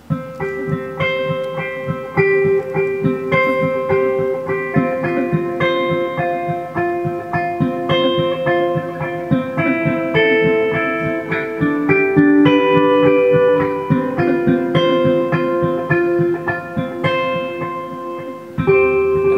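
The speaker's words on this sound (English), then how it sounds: "you can kind of pick and arpeggiate through the chords of the chorus" Electric guitar picks through chords note by note in a high register, a bright, ringing arpeggio pattern that flows steadily for a long stretch.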